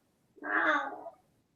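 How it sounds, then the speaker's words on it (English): A pet cat lets out a single drawn-out meow lasting under a second, close and fairly loud against a quiet room. "Is she meowing at you?"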